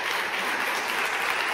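An audience claps continuously in a talk-show event hall, a dense, even wash of applause with no voices over it.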